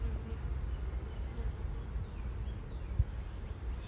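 Honey bees buzz steadily throughout a hive inspection, a dense continuous hum from many insects close by, with a brief knock near the end and no talking.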